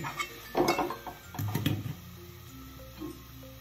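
Pieces of washed mutton tumble into a pan of browned ginger, garlic and chili paste, with clinks of a metal spoon against the pan and a brief soft sizzle, followed by quieter scraping.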